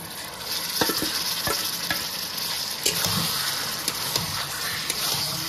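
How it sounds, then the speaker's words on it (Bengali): Marinated chicken stirred into browned fried onions in a hot pan, giving a continuous sizzle broken by repeated spatula scrapes and knocks against the pan, close up with no speech. "এবার ম্যারিনেট করে রাখা চিকেনটা দিয়ে দেবো"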